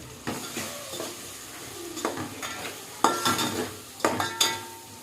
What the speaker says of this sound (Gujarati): મીઠું નાખી દઉં, કારણ કે આપણે દાળ બાફેલી છે ને એમાં નાખ્યો ને બહુ બધું મિક્સ કરી લઈએ.